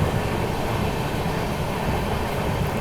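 The Swarn Nagri Express from Delhi to Jaisalmer runs through the Thar Desert without stopping, a steady rumbling roll of carriages on track, continuous and moderately loud from inside the train.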